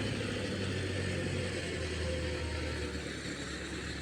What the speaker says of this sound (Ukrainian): Мій трактор приїхав розгорнути треті купи.